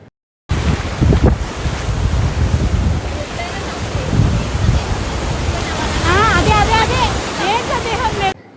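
Sea waves roll onto Chirala beach in a continuous broadband wash with gusts of wind buffeting the microphone, while people talk and call out over the surf, with voices rising toward the end.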